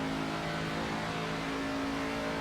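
A race truck's engine holds a steady high-revving drone as it is driven flat out around the track in the NASCAR 25 video game, loud and continuous with no talk over it.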